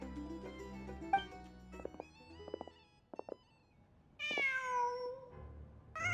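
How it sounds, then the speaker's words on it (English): A cat in Genshin Impact lets out a clear, drawn-out meow near the end, following soft ambient game music and light effect sounds, with no talk. "Just a cat."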